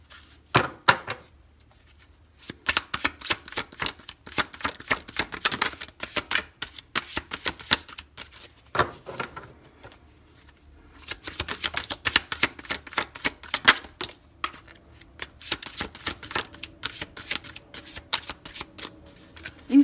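Tarot cards shuffled by hand in repeated bursts of rapid riffling flutter, close and crisp with short pauses between passes, no voices.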